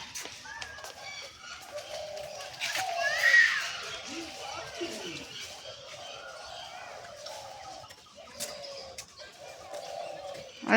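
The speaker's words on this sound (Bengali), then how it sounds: "দেখো আকাশে তিলা ঘুঘু।" A spotted dove outdoors, with faint intermittent coos and soft bird calls at a distance while people talk over them.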